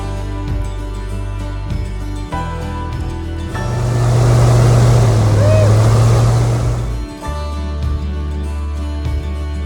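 An Everglades airboat with its fan mounted above the water roars in a loud, steady swell of engine and fan noise that builds in the middle and fades away, with people talking before and after.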